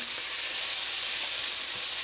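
Mushrooms, onion and vegetables frying in a pot: a steady, bright, hissing sizzle that runs continuously and fairly loud, with no voices over it.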